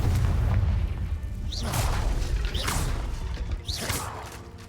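Confringo fire spells cast in the Hogwarts Legacy video game, three booming bursts about a second apart, each with a rising whoosh, over a dense low rumble of game background sound.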